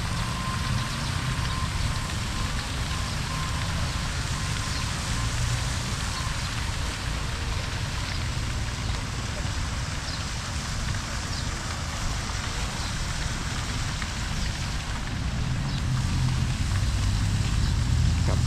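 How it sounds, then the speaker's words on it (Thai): Steady, dense rain hiss falling continuously without a break, with a low rumble underneath, pouring outdoors at a riverside Mekong shrine plaza in Nakhon Phanom, Thailand. "ฝนตกเสย ปล่อยๆไอ้ยะนี่ครับเห็นเม็ดฝนไหม ตกใส่หน้าปล่อยๆ"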